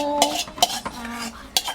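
Cutlery and metal pots clatter close by, with a few bright clinks and knocks spaced irregularly over a soft scraping, stirring background and no voices.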